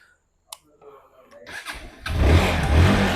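A second-hand Bajaj Pulsar NS 160 motorcycle is started after a short click, cranking briefly and catching into a loud, rough idle close by.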